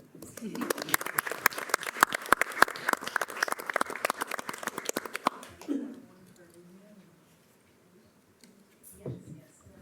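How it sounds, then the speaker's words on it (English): Audience applause at a city council meeting in Moline, a burst of many hands clapping crisply for about five seconds before stopping, followed by a quiet room with a few voices talking faintly. "We can clap for them."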